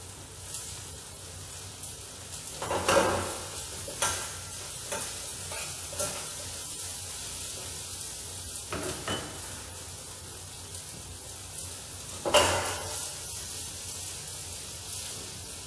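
Green capsicum strips sautéing in a pan give a steady soft sizzle, broken by a few louder stirring scrapes and clatters, with no one speaking.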